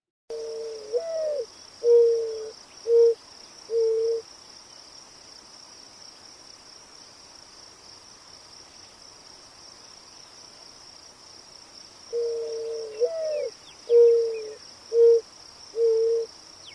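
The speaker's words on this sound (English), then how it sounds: "this mourning dove is only making these pretty noises to find a mate" Soft, low cooing phrases of several notes repeat twice, separated by a long pause, over a constant high insect drone.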